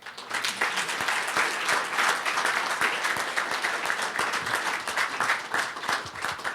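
Sustained audience applause for Assemblymember Medina at a bipartisan leadership event in California, a dense, steady wash of many hands clapping at even loudness for about six seconds with no voices over it.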